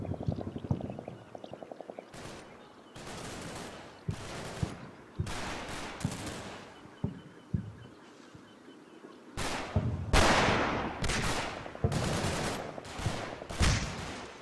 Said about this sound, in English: I like that the sniper's opening up.